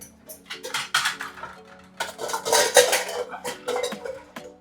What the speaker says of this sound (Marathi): ही बघा ही पितलेची भांडी